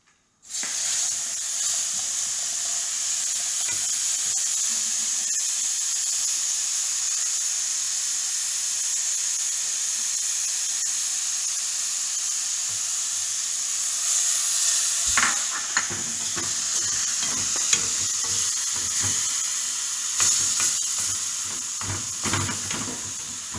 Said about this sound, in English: we are going to put tomato puree of 4 to 5 tomatoes. And we're going to stir it for 10 minutes